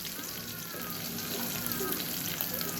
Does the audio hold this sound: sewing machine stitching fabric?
no